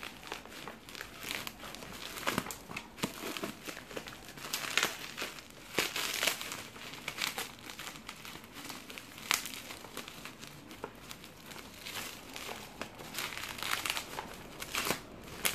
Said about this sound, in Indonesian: Langsung saja sobek aja ya, karena saya juga nggak perlu ini plastiknya.